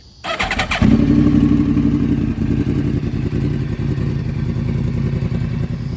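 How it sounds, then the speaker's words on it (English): A motorcycle's electric starter briefly cranks before the engine catches and settles into a steady, loud, close idle that continues alone without a voice. "you can hit the start button to start the bike"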